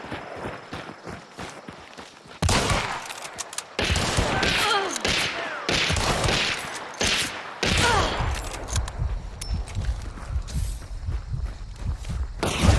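Gunshots from a Vetterli 71 Karabiner rifle in Hunt: Showdown crack out as a few loud, spaced reports, set against footsteps and a busy game background. A voice speaks faintly underneath.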